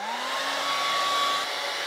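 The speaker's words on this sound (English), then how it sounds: "And as soon as you hear about 10 seconds of hair drying, I will stop recording" A hair dryer blows steadily on freshly cleaned Singer 201 sewing machine parts, a loud continuous close whir with a faint rising tone and no talking.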